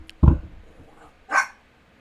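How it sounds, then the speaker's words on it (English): A pet dog barks twice indoors, a sharp close bark followed about a second later by a second, higher and slightly fainter bark, with quiet room tone between. "My dog is barking."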